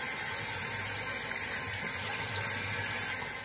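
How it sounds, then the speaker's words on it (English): Water runs steadily at a sink through LECA clay pebbles in a plant pot, a constant hissing, splashing wash with no pauses and no voices. "we're just running water through the pebbles"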